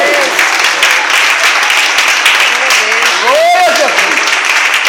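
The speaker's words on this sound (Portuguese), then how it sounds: "Aplausos para Jesus." A church congregation applauds in praise, steady dense clapping close and loud throughout, with a voice calling out over it briefly near the end.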